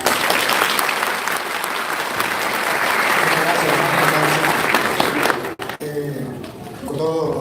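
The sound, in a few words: church congregation applause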